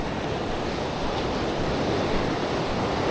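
Ocean surf rolling onto Quy Nhon beach, a steady loud wash of breaking waves with wind buffeting the microphone, no voices.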